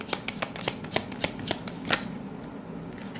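Tarot-style fortune cards are shuffled close up in quick, crisp riffling snaps that fire steadily for about two seconds and then fade into quieter rustling, with no voices.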